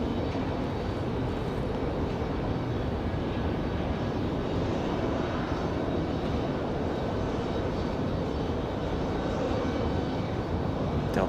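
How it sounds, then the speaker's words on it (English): A Delta CRJ 900 jet airliner rumbles at night at Raleigh-Durham International Airport, a steady broad engine roar sustained from a moderate distance with no voices. "Delta CRJ 900."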